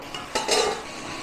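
Raw chicken being mixed by hand in a bowl: a few short clinks and scrapes of utensil against the dish, fairly close, with no talking.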